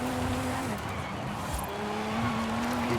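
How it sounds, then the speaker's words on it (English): Tyres of a BMW E46 M3 sliding in the racing video game Forza Horizon 5, a steady engine drone with a sustained squealing tone that dips and resumes, loud and continuous with no talk. "this car's doing, in my opinion, it's doing a lot more sliding. I'm losing my tyre grip a lot faster"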